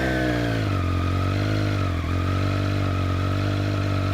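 A 2021 Triumph Speed Triple with its stock exhaust and carbon finisher idles steadily and close by, giving a loud, even engine rumble that carries on throughout.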